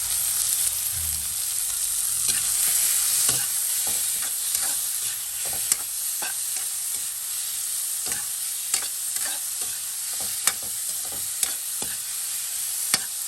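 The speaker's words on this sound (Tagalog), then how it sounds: "ginisa na natin ating bawang, sibuyas, kamatis. Lagyan natin itong ating sahog na chicken." Garlic, onion, tomato and chicken sautéed in a pan, a steady high sizzle with regular clicks of a utensil stirring against the pan.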